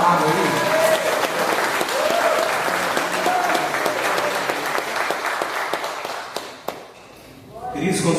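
A church congregation breaks into a big, lively round of applause with scattered cheering voices mixed in, continuing for several seconds before thinning out, followed by a brief stretch of talk at the end.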